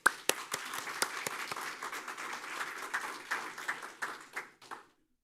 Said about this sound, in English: let's give them an applause